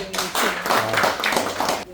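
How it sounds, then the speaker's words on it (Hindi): Children and adults clap at a chess and concentration workshop prize ceremony, a short burst of hand clapping in an indoor room, fairly close and lively. "पहले आप सभी के लिए जोरदार तालियां"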